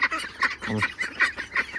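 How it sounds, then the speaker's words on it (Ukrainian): Young Pekin ducks and Muscovy drakes on a small farm call in a close, loud burst of repeated honking, quacking cries over about two seconds. "Оце у нас качки, ще трошки вони підростуть."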